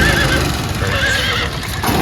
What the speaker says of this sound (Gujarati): ઘોડા જેવી છે, ઘોડા જેવો અવાજ કરે ને